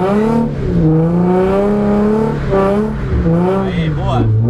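A car drifting under full acceleration, its engine drone rising and falling in pitch with strong harmonics, loud and close, while a person talks over it.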